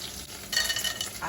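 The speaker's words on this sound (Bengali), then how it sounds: "মাছটা অপাশে ভাজা হচ্ছে আমি এপাশে বড়িগুলো ভেজে নেব" Fish and bori lentil dumplings fry side by side in hot oil for a Birbhum-style sour fish dish, giving a steady crackling sizzle with soft stirring and an occasional light clink of utensils.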